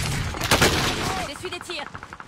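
Gunfire in Fortune's Keep, an online shooter, sounds as a burst of shots layered with game effects and a voice speaking over it.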